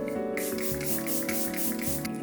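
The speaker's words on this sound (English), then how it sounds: "And my last round of setting spray." Setting spray mists onto a face in a quick series of about seven short hissing pumps with an even rhythm. The spray is close and clear over steady background music, with no talking.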